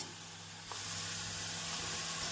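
Carrot sautéing in a hot pan with grated coconut being added for carrot rice, a steady close sizzle and hiss that swells slightly as the coconut goes in.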